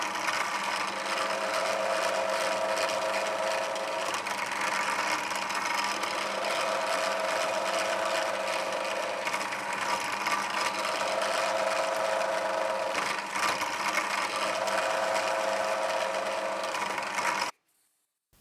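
A small drill bores through a carbon fibre knife handle with a continuous whirring, mechanical buzz that holds steady for most of the time with slight pulsing, then cuts off abruptly near the end.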